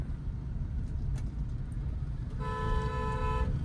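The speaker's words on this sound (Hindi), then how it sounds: "जब भी हॉर्न बजाइए 2-3 सेकंड तक कंटिन्यू बजाइए" A car horn sounds in one steady, continuous blast lasting over a second, close and loud over the low rumble of an idling car in a narrow lane.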